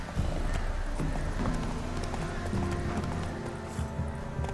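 Roach the horse galloping in The Witcher 3: rapid, continuous hoofbeats close by, with faint game ambience behind them.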